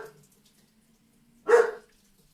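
A dog barks once in the background, a short, moderately loud bark after a faint earlier sound, in an otherwise quiet indoor space.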